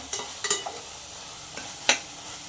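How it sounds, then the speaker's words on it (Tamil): Vegetables for veg biryani sautéing in a pan, a low sizzle broken by a few sharp scrapes and clinks of a spoon stirring at uneven intervals, close and fairly quiet. "அஞ்சு நிமிஷம் நல்லா நல்லா வணக்கிக்கோங்க"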